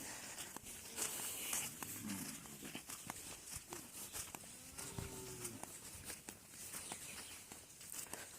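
Cattle at a crowded livestock market on a river island (char) near the Bangladesh–India border, with a few low moos rising over a steady bustle of hooves, footsteps and distant voices.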